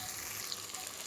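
Tomato and ground cumin fry in a pan for a vegetarian jackfruit curry, giving a steady, close, crackling sizzle with no break and no voices.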